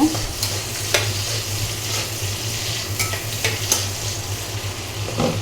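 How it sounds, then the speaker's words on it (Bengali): Onions and chilies frying and being stirred in a pan give a steady close sizzle, with scraping stirs and a few clinks rising above the hiss throughout. "এখানে পেঁয়াজ মরিচ ভেজে নিচ্ছি"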